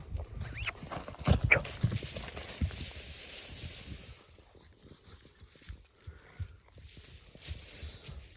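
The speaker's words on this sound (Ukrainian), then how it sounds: "Ось такі коні є на продажу." Horses for sale shuffle and clop nearby, with a snort or whinny early on, then quieter stamping and movement.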